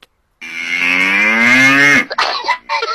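A water buffalo gives one long, loud, close moo lasting about a second and a half with a rich harmonic tone, followed by a few short, rough snorting or breathy bursts.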